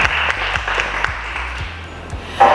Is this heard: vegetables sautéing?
no